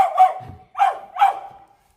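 A household dog barks three times in quick succession, short sharp yaps at moderate distance in an otherwise quiet room, with no talking.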